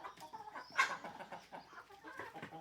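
Chickens cluck on a small farm, short irregular bursts from several birds near and close, with one sharper squawk standing out.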